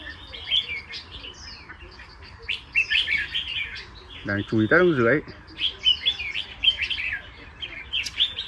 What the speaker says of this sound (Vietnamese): Chim đang về